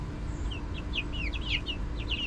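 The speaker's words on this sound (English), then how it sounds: "we have 4 yellow chickens." Short chirpy bird calls repeat in quick succession over a low rumbling background, like chickens clucking and peeping nearby.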